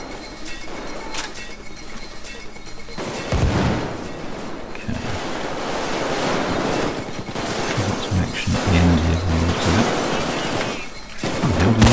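Rifle fire in the game Payday 2 comes as bursts of rapid, loud shots in several separated volleys, mixed with game noise and some mechanical clatter.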